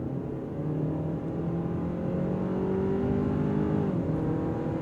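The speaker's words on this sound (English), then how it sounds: "I'm gonna switch into the sport drive mode before I put my foot to the floor." A 2024 Hyundai Sonata N Line sedan in sport drive mode accelerates hard at full throttle, its engine droning steadily and climbing in pitch, heard from inside the cabin.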